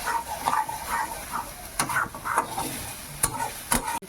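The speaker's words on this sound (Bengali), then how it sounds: "একটু জল দিয়ে মশলাটা কষাবো, মশলাটা নাহলে লেগে যাচ্ছে" Spice paste being stir-fried in a pan with a splash of water, a light sizzle beneath rhythmic scraping strokes of a spatula and a few sharp clinks, with a brief faint sound in the background.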